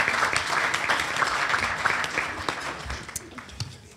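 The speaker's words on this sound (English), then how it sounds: "Please give him a round of applause as he comes up." A club luncheon audience applauds as the sheriff comes up to speak, with steady, moderately loud clapping throughout and a few louder claps near the end.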